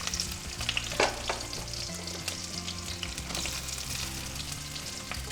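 Sliced onions fry steadily in ghee with a little oil for gongura pot biryani, a continuous close sizzle with a few stirring scrapes and clinks, heard alone.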